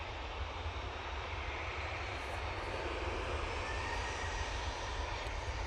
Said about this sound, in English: it is the Hainan A330 coming in from Beijing